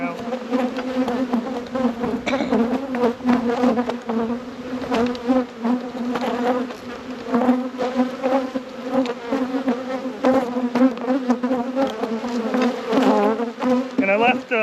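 Honeybees buzz in a dense, continuous drone around an opened hive during an inspection after winter, loud and close, with individual bees swelling and fading as they fly past, while a person speaks faintly underneath.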